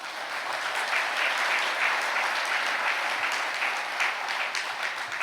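A congregation at a Catholic talk gives steady, even applause throughout, a dense wash of many hands clapping at moderate distance with no pauses.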